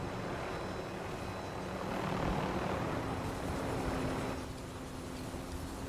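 A helicopter in Call of Duty Warzone flies along with a steady moderate rotor and engine drone that swells slightly midway and then eases, with no talk over it.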